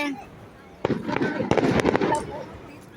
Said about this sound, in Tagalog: Ayun, fireworks.